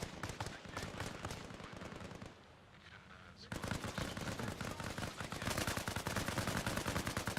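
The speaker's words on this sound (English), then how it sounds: "Sorry, I just hit the gunfire all of a sudden." Rapid automatic gunfire in the military game Arma Reforger, close and loud bursts that drop off briefly in the middle and then resume just as dense, with voices faintly under it.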